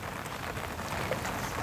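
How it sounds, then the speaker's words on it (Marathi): Heavy, continuous monsoon rain pours over flooded land with trees standing in water, a steady, dense wash of drops without any clear break. "भरपूर पाऊस पडतोय कंटिन्यू"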